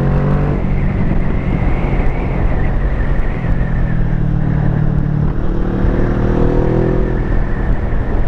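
A Kawasaki Vulcan S 650 motorcycle engine drones loudly and steadily while riding, its pitch rising and falling slightly with throttle changes, mixed with rushing wind noise.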